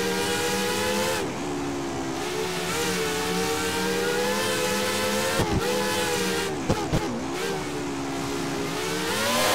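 A V12 Formula 1 car in the racing game F1 2013 screams continuously at high revs, its pitch dipping and climbing with brief drops during gear changes, loud and close throughout.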